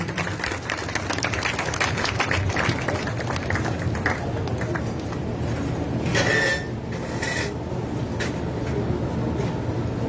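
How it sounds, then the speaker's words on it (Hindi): An audience at a camp gathering in Nawalgarh claps loudly to welcome a guest, steady dense applause lasting throughout with crowd noise mixed in. "जोरदार ताली बजाकर आपको स्वागत करो भाई"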